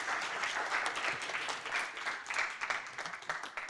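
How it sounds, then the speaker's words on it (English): Audience applause for conference panelists, a dense, steady clapping from a room full of people that carries on for the whole stretch without speech. "So please, a round of applause for our panelists."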